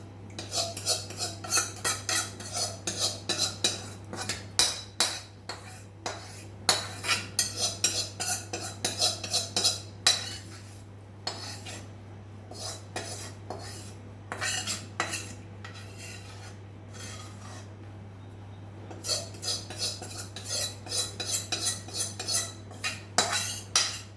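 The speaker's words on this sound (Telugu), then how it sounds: "ఇప్పుడు ఈ పొడులలో వేసి ఫస్ట్ తాలింపు కలిపేసుకుందాం" A spoon scrapes and clinks against a steel vessel in quick irregular bursts, close and steady, while tempering is stirred into spice powder for a gooseberry pickle, over a constant low hum.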